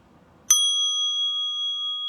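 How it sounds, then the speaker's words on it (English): A small mindfulness bell is struck once, giving a sharp bright strike that settles into a clear, sustained ringing tone that lingers without fading much. "a very loud sound for very tiny bells, if you know how to strike properly"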